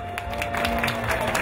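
Wedding reception guests break into clapping, a short burst of applause with scattered claps over a low hum of the hall.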